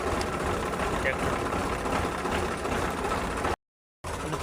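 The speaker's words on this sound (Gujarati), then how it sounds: "ટ્રેક્ટર." A tractor engine running a pump on a potato field, a loud, steady broadband roar that breaks off briefly near the end and then resumes.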